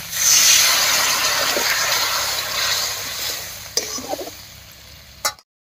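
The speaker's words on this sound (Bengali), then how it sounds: "এবারে মশলা বাটা জল দিয়ে কষিয়ে নেব" Hissing steam and spray as spice paste and water hit a hot pan of cooking jackfruit seeds, loud at first and then settling into a steady sizzle, with a few sharp clinks near the end before it cuts off.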